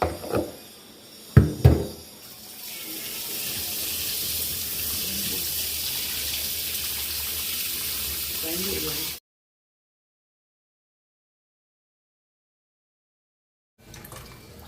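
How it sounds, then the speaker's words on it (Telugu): Small boneless chicken pieces for pickle are washed in water in a kitchen: a couple of sharp knocks, then a steady splashing, running-water wash for several seconds before it stops abruptly into silence, with a little more water at the very end. "బాగా ఇట్లా చిన్న చిన్న ముక్కలుగా చేసుకొని 2 మాటలు కడుగుతా, 2-3 మాటలు"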